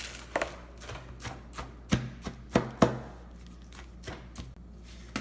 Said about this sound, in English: So I'm just mixing this really nicely.